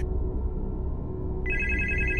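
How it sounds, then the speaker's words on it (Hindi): A desk telephone starts ringing partway through, its bright electronic ring cutting in over a steady low background hum in a DSP's office cabin. "तभी डीएसपी की टेबल पर रखा टेलीफोन बजता है।"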